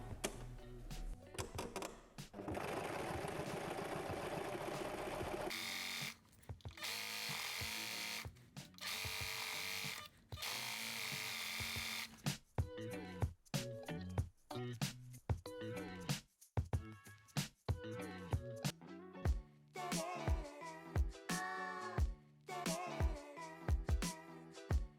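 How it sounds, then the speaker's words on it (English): A sewing machine threaded in black runs zigzag stitches joining a stretchy dress top to its skirt, in loud close bursts of fast mechanical buzzing separated by short stops, with rhythmic stop-start stitching later on. "I'm going to sew top and skirt together with a zigzag because it's a stretchy material"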